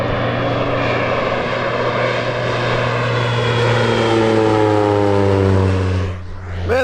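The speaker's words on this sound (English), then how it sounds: "the airplane just buzzed our tent pretty much" A low-flying crop-spraying propeller airplane roars loudly overhead while spraying the farm field beside a tent, its engine drone steady and close with a pitch shift as it passes, then fading briefly at the end.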